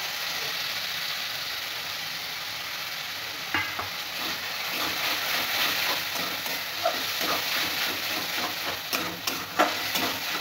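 Fish frying in a pan with spices and chopped coriander, a steady hiss of sizzling oil with scattered pops and stirring clatters growing busier partway through, moderately close and without speech.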